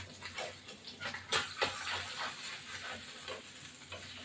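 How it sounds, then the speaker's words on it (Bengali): Pabda fish frying in a pan give off a soft, quiet sizzle with occasional louder spatters and utensil clinks as pieces are lifted out, heard close and without talking. "পাবদা মাছটা ভাজা হয়ে গেছে,"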